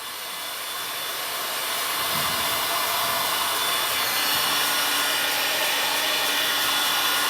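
A heat gun blows steadily while heating Tour Grade Velcro adhesive on a pedalboard, a constant loud hissing airflow that swells slightly in the first seconds and then holds even.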